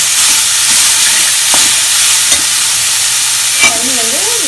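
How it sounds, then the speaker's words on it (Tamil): Carrots and curry leaves sautéing in a hot pan, a steady broad sizzle with faint stirring scrapes, and a brief whistling tone near the end. "கருவேப்பிலையும் போட்டு கொஞ்சம் வதக்கிட்டு இப்போ நம்ம தண்ணியை சேர்த்துக்கணும்"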